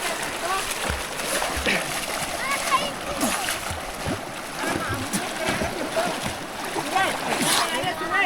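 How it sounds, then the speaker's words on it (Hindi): Someone swims backwards in a fast mountain river, and constant loud splashing and rushing water churn throughout, close and continuous. "अब मैं उल्टा तैरूंगा"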